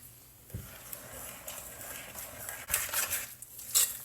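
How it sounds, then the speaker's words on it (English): A spoon scrapes and clinks against a bowl while a vegan breakfast sausage mixture is stirred, soft irregular clatter close by with a few louder knocks near the end, no talking. "And then you want to take and mix it."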